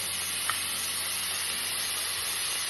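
Chopped strawberries sizzle in a hot kadhai on a gas stove, a steady, even hiss that runs close and unbroken throughout, with no voices.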